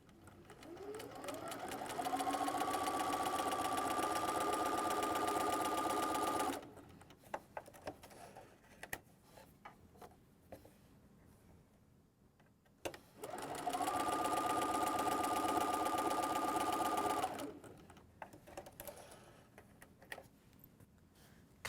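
A sewing machine quilting a crosshatch pattern across a fused pincushion top runs in two steady, sustained bursts of several seconds each, close up, with a quiet pause between them.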